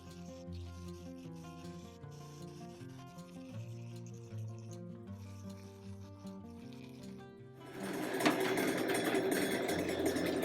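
A rock polisher runs with a steady whirring, grinding drone layered with tonal hums, then turns suddenly louder and harsher, with a dense abrasive rasp toward the end.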